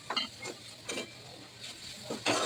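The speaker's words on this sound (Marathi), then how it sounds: "मिक्स करून घेऊया." A spoon is stirring a homemade chocolate mixture in a pot, making a few rhythmic scraping strokes about half a second apart, close and moderately loud, with no voices.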